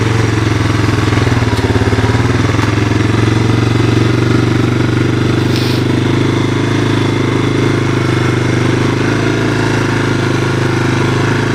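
A 1985 Honda ATC 250SX three-wheeler engine runs steadily, a loud close buzzing drone that holds an even pitch throughout without pause.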